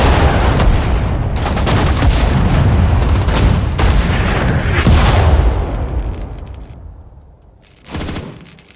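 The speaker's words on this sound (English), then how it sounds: "The destroyer is ready to fire." Destroyer gunfire from the HMS Ivanhoe in the World War II strategy game Sudden Strike 4, Battle of Dunkirk: loud, dense rolling barrage of booming shots and blasts, then a fading lull and one final heavy blast.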